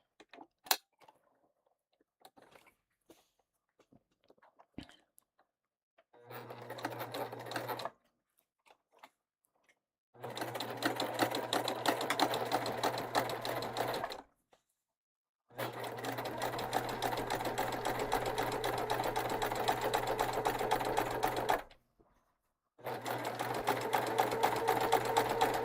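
A sewing machine stitches quilt pieces in three long, steady runs of rapid mechanical whirring, separated by short pauses, close and loud with no talk.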